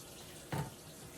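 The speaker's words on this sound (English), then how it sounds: "And then I rinse out the cup." Tap water splashes briefly into a detergent cup as it is rinsed, a single short burst of running water.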